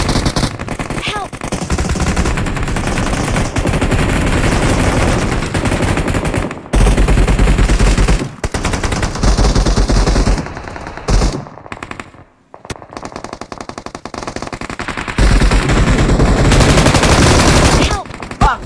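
Video game machine-gun fire rattles loudly and almost nonstop in long, dense bursts, broken by a few short pauses, with voices shouting now and then.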